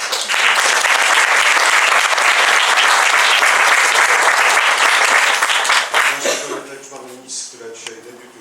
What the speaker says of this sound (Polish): zanim te brawa zabrzmią